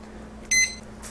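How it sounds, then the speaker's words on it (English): A kitchen timer gives one short, bright electronic beep as it is set for bread proofing, close and clear in a quiet kitchen. "I'm going to set my timer for 35 minutes"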